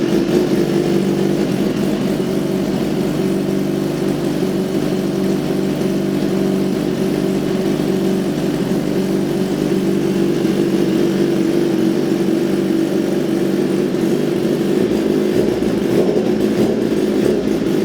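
A BMW S1000RR sport bike with a full racing exhaust runs loud and close, holding a steady droning rev for a long stretch with a slight rise near the end.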